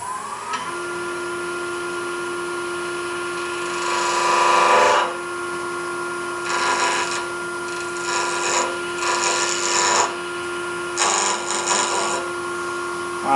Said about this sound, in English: I'll mark with the skew, I'll mark my groove here so I know where to cut and I get a nice straight cut